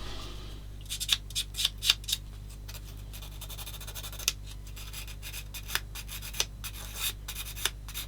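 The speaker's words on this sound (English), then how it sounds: "I'm using a sanding stick to get any stickiness off this pair of pinchers" Faint, intermittent rasping strokes of a sanding stick rubbing against metal pliers, in short irregular bursts over a low steady hum.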